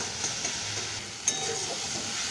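Grated ginger stirred gently in a hot frying pan for a fish and cauliflower curry, a continuous hissing sizzle with a couple of faint spatula scrapes and one sharper tap partway through.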